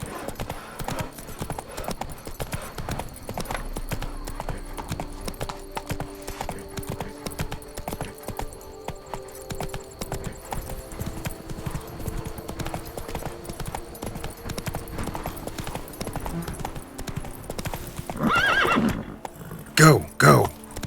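A horse in The Witcher 3: Wild Hunt gallops with a fast, steady clip-clop of hooves, then neighs loudly near the end, with voices heard over it.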